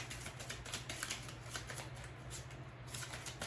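Tarot cards are shuffled in a steady, close riffling patter, soft and continuous with no voices.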